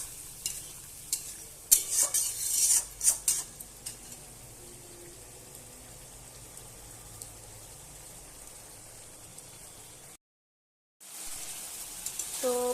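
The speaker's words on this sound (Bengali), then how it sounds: "জল দিয়ে ভালোভাবে আবার আমি কষাবো।" Fish curry masala with potatoes stir-fried in a pan after a splash of hot water, a low steady sizzle with a burst of scraping stirs and clatter early on, then a short silent gap before frying sounds return.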